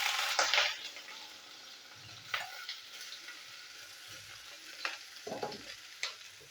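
Eggplant slices with salt and turmeric fry in hot white oil, producing a soft, low-level sizzle with occasional spoon scrapes and brief crackling bursts, fairly quiet and without speech.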